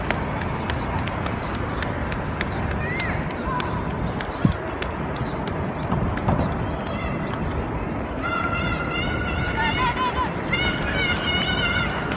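Birds chatter and call against a dense crowd murmur outdoors during an umrah pilgrimage, with bright repeated chirps growing clearer toward the end.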